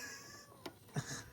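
A pet cat named Bella gives a couple of brief, soft meows, faint and close against a quiet indoor background, with no talking.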